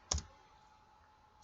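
A single close computer mouse click at the start, sharp and brief, followed by quiet room tone.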